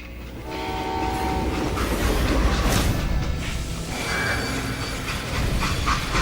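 A freight train in the Call of Juarez video game rumbles steadily along the rails, its heavy low roar and metallic clatter running continuously with a horn-like tone rising briefly partway through.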